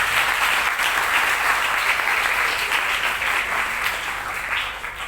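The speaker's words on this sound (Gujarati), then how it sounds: "આ બધા જ માટે એકવાર જોરદાર તાળીઓ પાડો" A large audience at a Gujarati mother-language day program gives sustained, loud applause, a dense even wash of clapping that fades slightly at the end.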